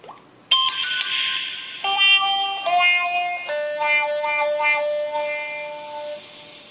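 A Galaxy Note 3 phone speaker plays its test tone, a bright electronic chime melody of several descending and stepping ringing notes, clear and fairly loud with a tinny phone-speaker character.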